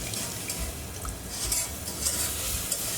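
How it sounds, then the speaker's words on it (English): Full cream milk being stirred slowly into a milk pudding mixture for mahalabia, a soft continuous swishing and scraping close by, with no speech. "while we're stirring that through, I'm going to add in 3 cups of full cream milk"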